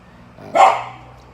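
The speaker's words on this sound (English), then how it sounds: "He probably hears another dog barking." A single short dog bark rings out once, fairly close and loud, against a quiet background.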